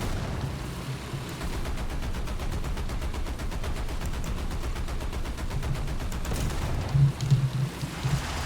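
Rapid, continuous fire from a .50 caliber machine gun in the War Thunder game, a steady rattling stream of shots lasting several seconds at even volume, with a few heavier thumps near the end and no voices.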